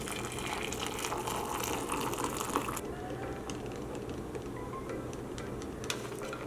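Hot water pours over crumbled vegan beef bouillon flavored cubes with a steady close gush that breaks off partway, leaving quieter trickling and faint kitchen noise.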